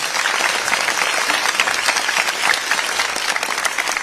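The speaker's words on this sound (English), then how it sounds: "go ahead and give them a round of applause." Audience clapping at a school band spring concert for middle and high school bands, a dense, steady burst of applause from a crowd filling the hall throughout, with no talking.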